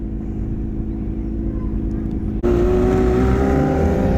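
Compact speed cars at Bega speedway drone loudly, then a sudden surge of engine roar at the start of a heat, with a high engine whine holding steady under a possible commentator.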